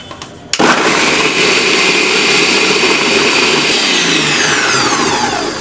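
An electric blender grinds hummus made with bell pepper and oil. The motor switches on abruptly into a loud, whining roar that holds steady and close for several seconds.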